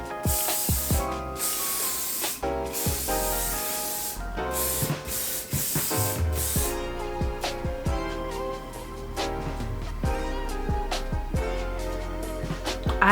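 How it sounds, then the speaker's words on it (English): Hairspray hisses from an aerosol can onto styled Hollywood waves in a run of short, close bursts of varying length, each cut off sharply, against a background of music. "Now I'm going to finish everything off with hairspray."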